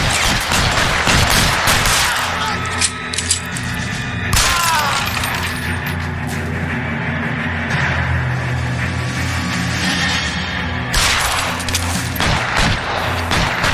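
Loud, sustained covering gunfire in an L.A. Noire shootout, with dense overlapping shots, sharp cracks and impacts, and breaking-glass bursts near the start and end, with continuous background rumble throughout.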